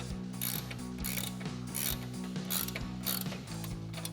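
A 21 mm ratchet wrench tightens a flag nut on a Jeep Wrangler JL steering drag link, giving a steady series of close clicking ratchet strokes at an even rhythm over a low background hum.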